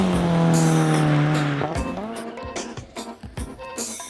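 A C5 Corvette Z06 drives hard, its engine revving and sweeping through gears, then breaking into a choppy, sputtering burble as it shifts and lifts, close and loud.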